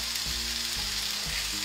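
Two small onions sizzle in an omelette pan with the heat turned down slightly, a steady close frying hiss with a few low clunks of stirring or pan movement.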